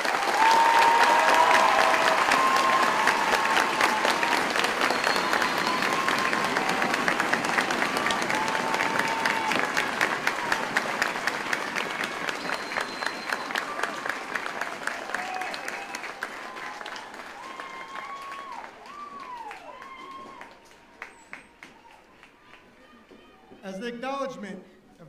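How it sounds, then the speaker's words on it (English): A large audience at a Fort Jackson basic training graduation ceremony applauds the graduating soldiers with dense, sustained clapping that slowly thins and fades, and a voice speaks near the end. "please join me in a round of applause for these American soldiers"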